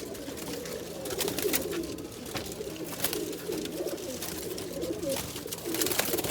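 Giribaz pigeons coo softly inside a loft, a low murmuring drone that carries on steadily without clear gaps, with no one speaking.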